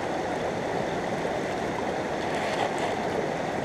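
Water and gravel rushing through a gold sluice, a steady, dense close-up wash of flowing water with a faint gritty rattle, unbroken and without voices.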